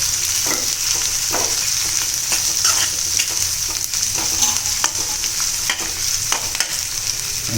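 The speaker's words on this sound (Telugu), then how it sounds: "ఆనియన్స్, వేసుకొని ఫ్రై చేసుకోవాలి." Onions frying in a pan for street-style rolls, a loud, continuous hiss of sizzling oil with occasional small crackles and stirring scrapes, close up and free of speech.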